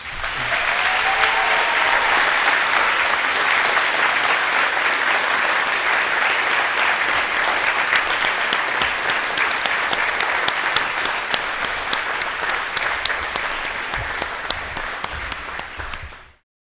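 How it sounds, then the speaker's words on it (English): Sustained applause from a large crowd, dense and steady for many seconds before fading out, with faint voices mixed in. "Let's give a round of applause"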